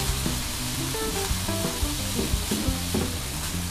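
Seasoned potato filling for croquettes sizzles and fries in a pan, a continuous close crackle with occasional stirring scrapes and no voices.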